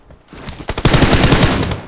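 A loud, close burst of automatic gunfire in a shooting video game, opening with a couple of single shots before a rapid continuous volley that runs to the end.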